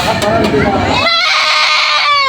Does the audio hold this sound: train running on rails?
no